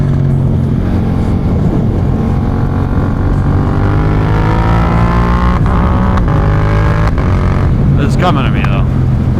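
A Yamaha MT-07 stunt motorcycle is ridden while its rider practices wheelies, giving a loud, close, steady engine drone whose pitch slowly rises. The rider speaks briefly over the engine noise.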